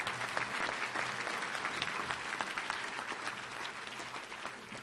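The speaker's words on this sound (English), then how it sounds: "Let's give you a round of applause." Applause from a crowd at an awards banquet, steady dense clapping that fills the room for several seconds at an even level with no voices over it.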